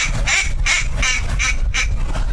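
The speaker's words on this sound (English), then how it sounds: "If I were recommending spending a duck call for a young duck hunter, it would be something like this, where you just pull back and then I quack." A pull-back duck call blown by a decoy carver at a bay gives five evenly spaced, loud quacks about half a second apart, close and clear with no talking.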